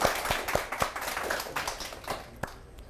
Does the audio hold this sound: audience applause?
yes